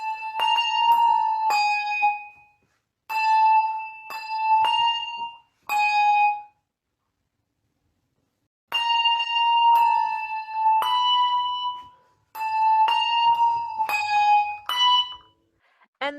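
A handbell ensemble rings out phrases of clear, sustained bell tones, struck in quick groups with short pauses between them, loud and close with no talking.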